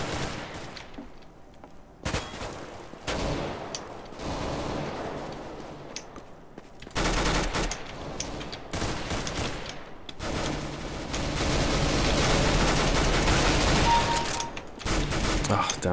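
Gunfire in the video game CS:GO, an Arms Race match, comes as repeated bursts of shots of varying loudness, growing denser and steadier toward the end, with some quieter gaps between.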